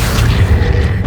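Accio spell cast in Hogwarts Legacy, a single short, loud, deep booming magical surge with a rumbling low end and no speech.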